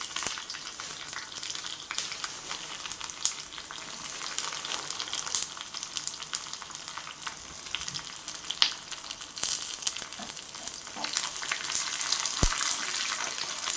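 Small onions sizzle in hot oil for a Tamil mackerel fish curry tempering, a steady bright crackling hiss with occasional pops and no talking.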